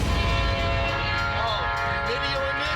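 A train roars past a Florida railroad crossing with a loud, steady rumble and sustained horn tones, while people's voices cut in over the noise.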